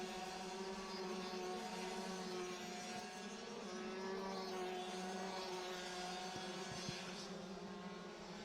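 Rotax DD2 racing karts passing through a corner at a BNL Round 2 pre-final: a continuous, moderately distant engine drone with steady, overlapping whines and no clear gaps.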